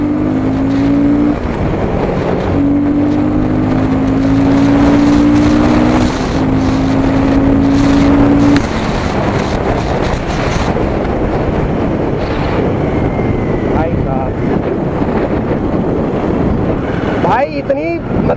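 A Royal Enfield Guerrilla 450 motorcycle in second gear accelerating hard to overtake a car on the road, engine revving with rising pitch before a gear change, then rushing on under heavy wind noise.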